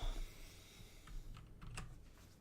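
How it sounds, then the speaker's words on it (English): Quick, heavy typing on a computer keyboard, a run of sharp clacks and hammering keystrokes close by with uneven rhythm, no talking. "Why are you hammering on your keyboard?"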